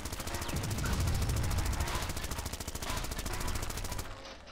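A vehicle-mounted machine gun fires in the video game Zombie Driver, a continuous rapid rattle of shots with a rumbling engine beneath, fairly faint throughout.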